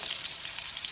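Spring rolls searing in a hot pan give off a dense, even hiss of frying oil, steady and close for a brief moment with no voices.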